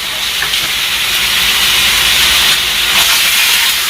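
Chicken adobo sautés in a pan with a loud, steady sizzling hiss that runs without a break, close and bright, with no talking over it.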